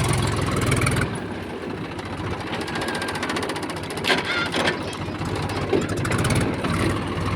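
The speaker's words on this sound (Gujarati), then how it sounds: "જો જૂનું ટ્રેક્ટર હે ને એટલે ચોથામાં હાલવા માંડે હે" An old tractor engine runs in fourth gear while fertilizer is being spread, making a steady, fast mechanical chugging with rapid rhythmic knocks and occasional rattles, heard close and fairly loud.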